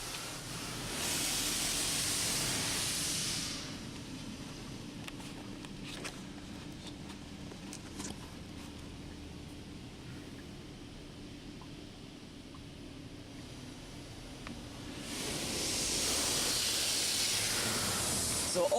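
Spot-free rinse spraying from the high-pressure arm of a PDQ LaserWash G5-S automatic car wash, a loud hissing water spray at the start and again near the end, with a quieter dripping, rumbling lull between.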